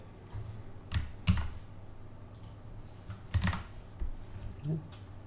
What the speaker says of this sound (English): Next, I'm going to actually type this command